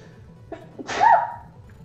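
A single sharp human sneeze, close and fairly loud, preceded by a couple of short inhaling catches.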